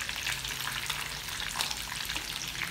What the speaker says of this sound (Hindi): अभी थोड़ा सा इसे हमने और फ्राई करना है